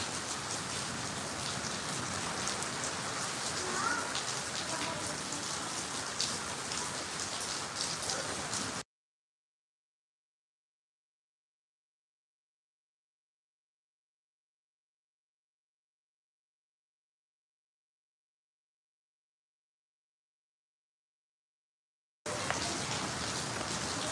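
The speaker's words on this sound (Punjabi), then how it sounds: "ਚੰਡੀਗੜ੍ਹ ਦੇ ਵਿੱਚ ਇਹ ਗੜੇ ਪੈ ਗਏ ਜੀ" A dense, steady patter of hail and rain falls in Chandigarh, continuous for several seconds, then cut off by a long stretch of total silence before the downpour returns briefly at the end.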